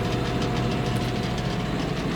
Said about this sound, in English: this is a 5075 John Deere